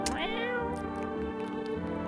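A video-game cat lets out a strong, wailing meow at the start, then softer mewing cries trail along over a constant musical background, near and alone.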